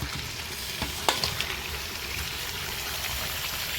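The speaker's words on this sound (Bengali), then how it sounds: "খুন্তি দিয়ে ভালো করে নেড়ে নিতে হবে" Meat frying in a pan and being stirred with a spatula, a steady soft sizzle broken by a few sharp scraping clatters near the start, no speech.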